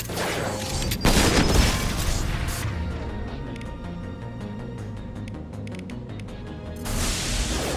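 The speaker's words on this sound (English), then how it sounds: "Flashbang!" A flashbang grenade in the video game Mass Effect 2 bursts with a loud crash, followed by a muffled, ringing stretch and then a return of game noise.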